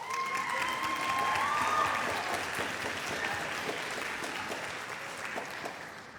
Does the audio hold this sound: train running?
no